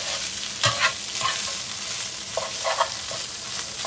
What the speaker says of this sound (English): I'm cooking it on a really high heat right now just because I want to get this nice and fried, the tofu rather.